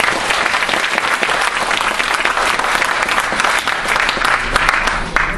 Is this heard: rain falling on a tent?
no